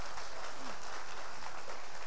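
An audience applauding for an association president during a Turkish folk music program in Kepez, a steady, fairly distant wash of clapping with no voices.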